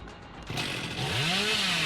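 The Hillbilly's chainsaw revs up in Dead by Daylight, a quiet idle that suddenly roars into a loud, rising buzzing whine and holds at full throttle.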